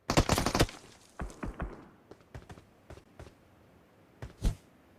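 Automatic gunfire sprays in the mobile battle royale PUBG Mobile: a rapid close burst of loud shots at the start, then scattered single and short bursts at varying distances, sharp and crackling, with no talk.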